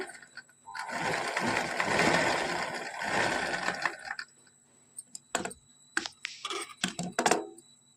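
A sewing machine stitches along the edge of a saree pallu, running in a steady, loud whir for about three seconds before breaking into short, stop-start bursts of stitching.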